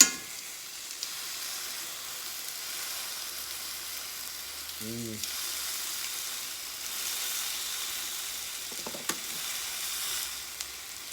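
Lamb pieces browning in a pan for a slow-cooker roast, giving a steady, faint sizzle throughout with a brief clatter partway through and light handling noises near the end.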